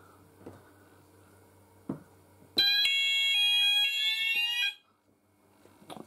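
An ESP detector alarm goes off during a system test with a loud, close, shrill electronic beeping tone that lasts about two seconds, after a few soft taps and clicks.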